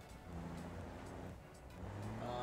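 A cement mixer truck in the BeamNG driving game rumbles along, its low engine drone steady and close with slight rises in revs.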